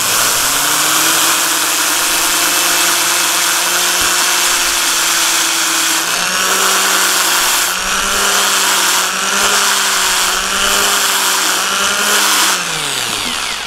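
A steady, whirring power sander runs continuously at close range on a red oak bowl, its pitch dipping slightly a few times, with a gritty abrasive hiss on top.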